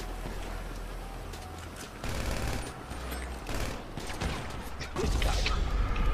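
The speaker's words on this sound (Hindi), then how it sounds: "पीछे से गोली आ रहा है भाई" Video game gunfire comes from behind the player, heard as loud dense volleys of shots and mechanical clatter that swell in sections, with a muffled voice underneath.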